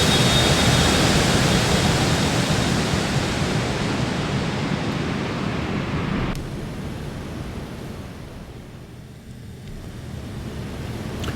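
A simulated Cessna Citation X jet passes by in the X-Plane flight simulator as a loud, steady broadband roar that drops abruptly partway through to a quieter, fading hiss.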